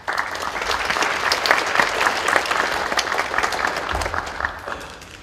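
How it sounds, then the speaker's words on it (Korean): Enthusiastic applause from students at a university chapel service as a professor comes forward; dense, loud clapping that swells and then tapers toward the end. "우리 나오실 때 큰 박수 부탁드리겠습니다."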